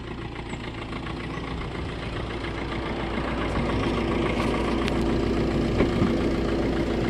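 A Maruti Suzuki Ciaz car engine idling steadily up close, a continuous even rumble that swells slightly partway through, with no talk.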